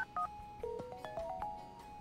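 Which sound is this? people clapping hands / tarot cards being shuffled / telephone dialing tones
telephone dialing tones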